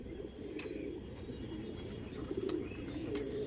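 A male and female pair of Napta Giribaj pigeons coo steadily in low, soft, continuous murmurs, close by, with faint chirps of other birds above them.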